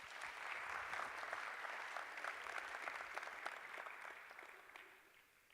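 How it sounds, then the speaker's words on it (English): Audience applause at a business conference in Bahrain, a dense, sustained clapping from a large crowd that holds steady and then gradually thins out. "Please give him a round of applause."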